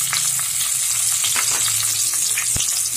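Chopped onion tossed into hot oil with black cumin and curry leaves for a Bengali eggplant dish, giving a loud, continuous close sizzle with occasional stirring scrapes and no talk.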